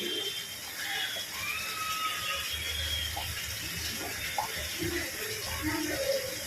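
Chicken curry simmers in a pot on a gas stove, with a continuous watery bubbling and small scattered pops at close range throughout.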